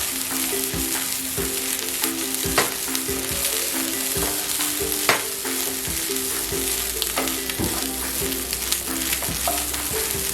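Crispy fried sweetcorn seasoned with kasturi methi gets a final toss in a hot pan, giving a steady, close sizzle of frying with scattered light scrapes and knocks from stirring throughout.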